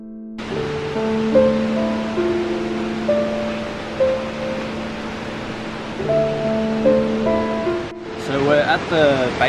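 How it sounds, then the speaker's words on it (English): Nachi Falls in Japan, heard from its base, pours as a steady broadband roar of falling water, with tonal sounds layered over it and a brief louder disturbance near the end. "Base of Nachi Falls."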